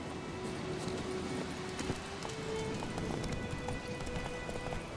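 Hooves pound in a fast, continuous gallop of a horse in The Witcher 3: Wild Hunt, against a steady rumble of background noise, with faint scattered clicks throughout.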